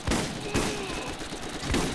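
Rapid bursts of gunfire in the Borderlands shooter game, with repeated shots and a few sharper cracks spread over a dense, steady barrage.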